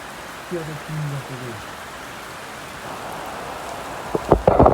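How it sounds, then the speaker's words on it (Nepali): Rain begins falling outdoors, a soft steady patter beneath a man's brief speech early on, with louder irregular crackling knocks near the end. "यहाँ चाहिँ पानी पर्नु सुरु गरिसक्यो"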